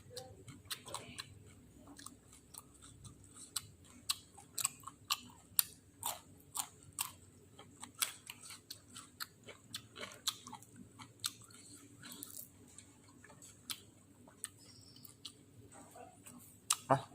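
Close, quiet chewing and crunching while eating grilled fish with papaya salad, made up of irregular soft clicks and bites that continue steadily, with faint room noise beneath and no talk.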